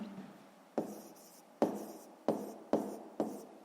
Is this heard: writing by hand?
yes